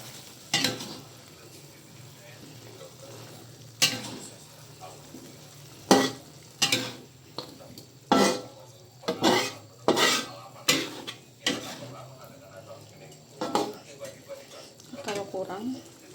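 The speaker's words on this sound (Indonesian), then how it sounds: "kita masukin sedikit cabai yang udah kita blender, kita aduk rata." Blended chili paste sizzles and spatters in a hot pan while a utensil scrapes and stirs in repeated strokes; a voice talks quietly in the background.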